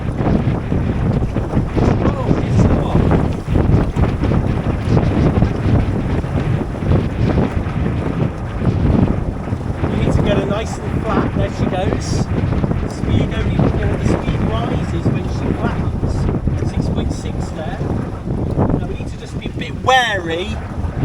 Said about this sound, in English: Wow, we've got a good wind today.